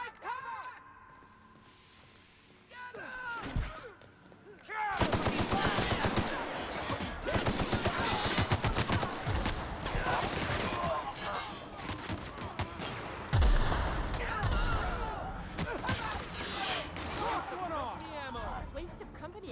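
Heavy gunfire in The Outer Worlds: after a quiet stretch with a voice, loud sustained rapid-fire bursts erupt and continue with overlapping shots, while people talk over the battle.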